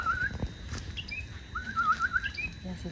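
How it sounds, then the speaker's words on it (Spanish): Wild birds chirping outdoors on a hillside climb, with several quick high sliding tweets in short bursts over a soft rustling background, moderately close. "¿Qué tipo de pájaro será?"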